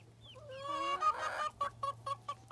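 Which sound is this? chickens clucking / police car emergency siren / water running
chickens clucking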